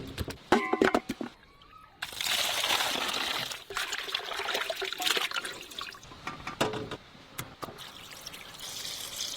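Chicken drumsticks rinsed under running water, a steady splashing gush with trickling and dribbles, starting after a couple of seconds of small clatter and continuing close by with no talk.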